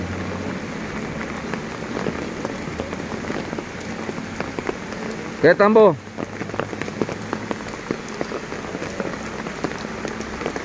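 Heavy rain from Hurricane Nora pours steadily in Acapulco, a continuous hiss of drops on surfaces, with a brief voice speaking close by partway through.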